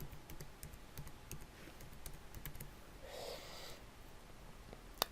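Quiet, rapid keystrokes on a computer keyboard as a word is typed, a faint run of light clicks with a sharper final tap at the end.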